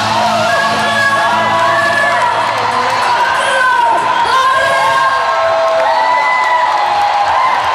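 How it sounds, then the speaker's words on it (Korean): A large audience at a church overseas revival gathering cheers, whoops and shouts without letup after a performance, a loud, dense roar of many voices that stays steady throughout. "박수가 멈추지를 않는데"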